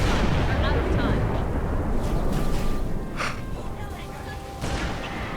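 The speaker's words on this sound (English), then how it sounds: "Hell of an anti-aircraft gun." An anti-aircraft gun in the video game Halo 3 keeps up heavy, rumbling fire with booming blasts and a dense, continuous roar, under a few spoken words.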